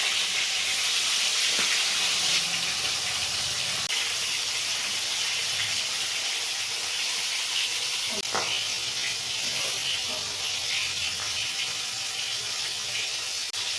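Bhetki fish bones frying in very hot oil in a kadai, a steady close hiss of sizzling with occasional sharp pops and spatters breaking through.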